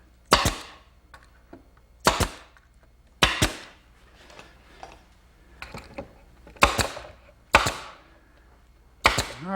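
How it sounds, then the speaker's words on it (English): A nail gun tacks a glued plywood mailbox post, firing about seven sharp, loud, close shots at irregular intervals with faint handling noise between, no speech. "I can get a nail gun on the outside, so I'll just put a couple tacks on each side."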